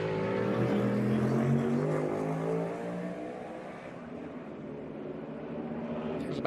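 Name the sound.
NASCAR Cup Series race cars on track in Chicago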